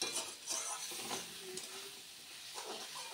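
Masala of ginger paste, cumin powder, tomato and a pinch of sugar frying in a pan, a steady close hiss and sizzle with occasional scraping stirs.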